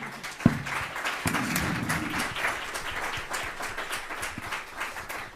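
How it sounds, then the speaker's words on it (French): A conference audience applauds the panel speakers after a round-table discussion, a dense wash of clapping that carries on for several seconds. "Je vous propose d'applaudir nos intervenants."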